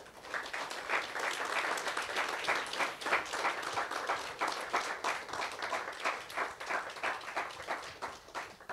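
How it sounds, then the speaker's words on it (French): Sustained, steady applause from an audience at a geopolitics thesis competition, honouring four contestants; dense overlapping claps keep an even, slightly pulsing rhythm for about nine seconds with no speech. "D'ailleurs, vous invitez à les applaudir tous les 4."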